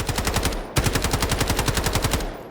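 A weapon set to low gas in the Delta Force shooter fires two bursts of rapid automatic gunfire at about 600 rounds per minute, with loud, evenly spaced shots and a brief gap between the bursts.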